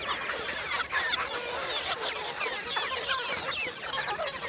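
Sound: country chicken chicks clucking

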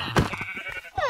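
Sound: sheep bleating in Minecraft video game

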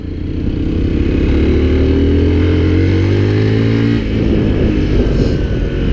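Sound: Mondial Drift 125 L motorcycle engine revving in second gear

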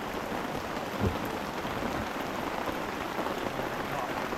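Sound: rain falling in the forest

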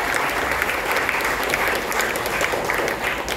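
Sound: applause for two interviewees

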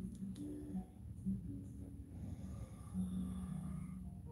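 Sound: man snoring loudly

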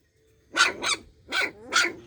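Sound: mother dog barking

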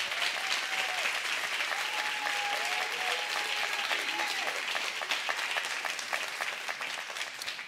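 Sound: church congregation applauding

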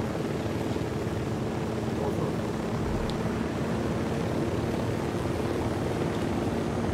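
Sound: helicopter flying in the video game Ghost Recon Wildlands

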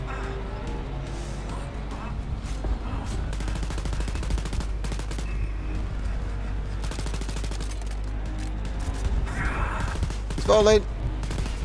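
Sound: gunfire in Wolfenstein Youngblood video game

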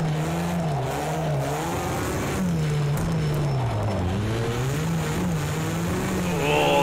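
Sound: Volkswagen Polo rallycross car engine racing in video game Project CARS 2

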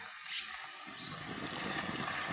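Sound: water being poured in while making Gujarati bhel

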